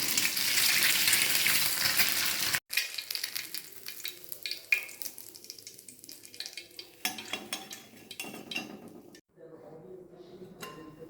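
An egg fries in hot oil, opening with a loud, dense sizzle that drops into quieter, choppy crackling, with clinks of a pan and utensil up close.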